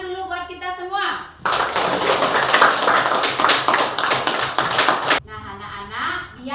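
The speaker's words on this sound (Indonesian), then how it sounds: "kasih tepuk tangan dulu buat kita semua" A primary-school class of children claps in a dense burst of applause lasting several seconds. Speech comes just before and just after, and the clapping itself is loud and close.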